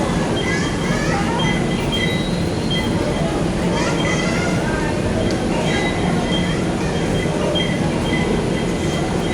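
Commuter train at a busy station platform on EDSA in the afternoon, a steady loud rumble of cars and wheels under crowd noise, with people talking throughout.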